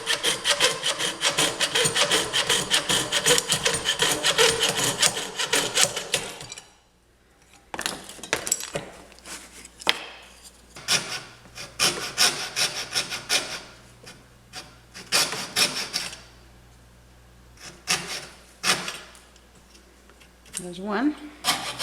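Hand sawing through a clamped wooden part from an antique dental cabinet, trimming about an eighth of an inch: steady close rasping strokes for several seconds, then scattered rubbing and knocking sounds with brief pauses.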